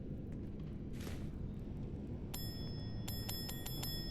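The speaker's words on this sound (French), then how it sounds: "oui, des sonnettes" Doorbells in Fallout 4 ring in a series of bright, clipped electronic chimes, several quick repeated rings in the latter half, over a steady low ambient hum with no talking.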